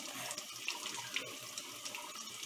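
Water runs from a tap into a sink in a steady hiss and splash, close by, with a few small clinks and drips and no talk.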